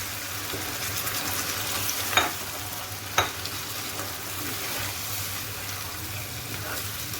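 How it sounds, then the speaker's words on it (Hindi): Tomato puree with spices sizzles steadily in a hot pan, a soft continuous frying hiss broken by two sharp scrapes of a stirring spoon against the pan. "अब इसमें मैं ये टमाटो प्यूरी ऐड कर दूँगी।"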